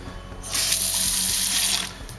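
A kitchen tap runs into a sink, water pouring steadily and fairly loudly for about a second and a half before easing off, with light background clatter.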